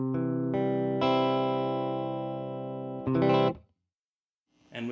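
Dry electric guitar through a tweed amp with no reverb: a few sustained chords, loud and close, then a short strum that cuts off abruptly into silence before another note starts.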